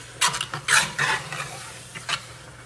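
A spoon scrapes and stirs seasonings through lasagna sauce in a pan, a few uneven, close strokes over a soft sizzle, with no one talking.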